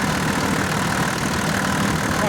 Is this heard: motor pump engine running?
yes